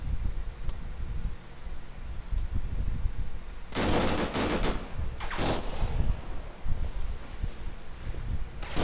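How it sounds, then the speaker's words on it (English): Enemy gunfire in the video game Arma 3 breaks out in two sharp, loud bursts over a steady rustling, windy background, followed by scattered fainter shots. "I'm getting pounded here by enemy fire"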